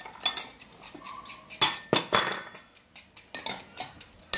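A utensil clinks and scrapes against a small pot on an induction cooktop while eggs are stirred, giving irregular close metallic taps and scrapes with short pauses between them.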